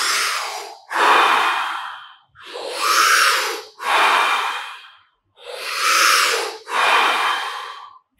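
Slow, deep breathing exercise: six loud, close breaths alternating long inhales and exhales, each swelling and fading in a steady rhythm with brief pauses, no speech.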